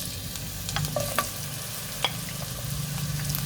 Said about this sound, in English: the oil seems to be hot now, so we're going to put the onion in